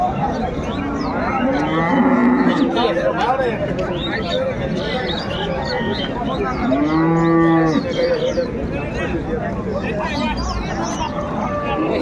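Cows and calves at a busy rural cattle market in Ambari, Dinajpur, let out two long, loud moos, one near the start and one midway, over constant crowd chatter and nearby voices.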